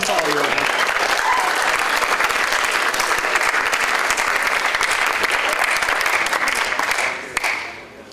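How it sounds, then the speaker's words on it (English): Loud, sustained applause fills a conference keynote hall for a presenter, dense and even for about seven seconds before tapering off sharply at the end. "Can everyone give a round of applause for Manny for that presentation?"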